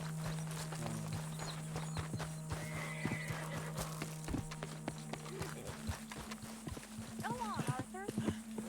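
Horse in the video game Red Dead Redemption 2 snorting and whinnying with clip-clopping hooves, under frequent spoken dialogue and game ambience.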